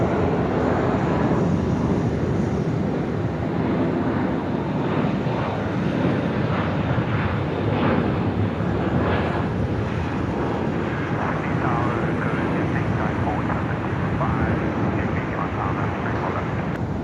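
Emirates airliner departing Sydney Airport at night, a steady broadband jet engine roar holding loud and constant throughout, with a voice talking over it.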